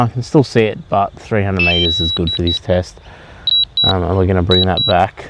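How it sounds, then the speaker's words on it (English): A DJI Mavic 2 Pro drone's controller emits short, high, repeated electronic beeps in small bursts during flight, heard under someone talking close to the microphone. "Do apologise for the beeping."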